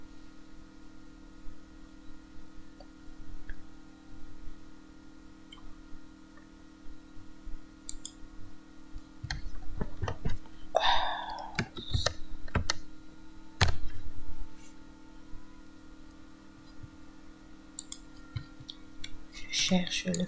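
Clicks of keys typed on a computer numeric keypad, sparse and irregular at first, then a denser burst of taps midway, close and fairly quiet over a steady background hum.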